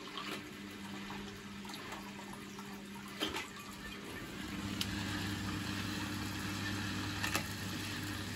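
Drain pump of a Bosch WFP3300 washing machine clogged with limescale, emptying water: a steady low hum with trickling water and occasional faint clatters, moderately quiet and continuous.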